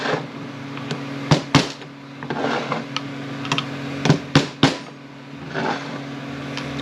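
A hammer taps a screwdriver to seat a part in a 45RFE transmission. A few sharp metallic knocks come in small clusters over a steady low hum, close by with no talking.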